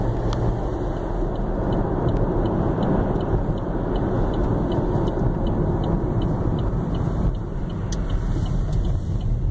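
A Chevrolet Camaro Rally Sport drives along, heard as a steady hum of engine and road noise with a constant level throughout.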